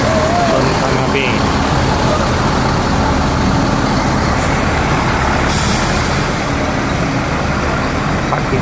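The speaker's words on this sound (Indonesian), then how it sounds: "Inilah terminal Pondok Pinang Lebak Bulus akan menyusul 3 bis lagi." Large intercity buses and heavy traffic at Pondok Pinang Lebak Bulus bus terminal in Jakarta, a steady loud engine rumble with an air-brake hiss, while people talk in the background.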